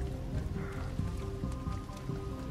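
Steady rain patters throughout in the video game Detroit: Become Human, a dense, even hiss of drops on surfaces with no voices.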